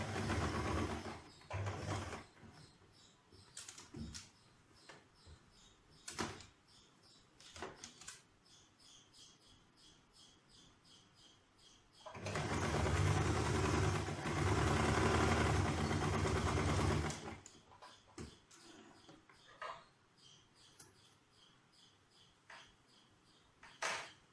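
A sewing machine stitching churidar pant fabric, a loud continuous mechanical whirring burst of several seconds in the middle, surrounded by quieter handling clicks and fabric rustles.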